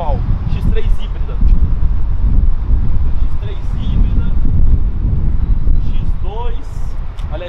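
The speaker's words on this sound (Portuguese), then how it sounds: "Aqui deve estar com vento, viu?" Wind rumbles against the microphone outdoors at a car dealership lot, a constant low buffeting beneath people talking throughout.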